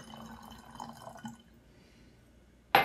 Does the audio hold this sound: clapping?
no